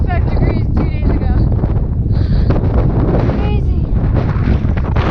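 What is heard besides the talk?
strong wind on mountain trail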